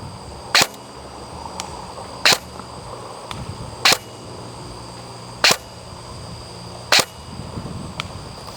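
An ASG Scorpion EVO airsoft gun fires single shots on semi-auto: five sharp, close cracks spaced about one and a half seconds apart over a quiet background.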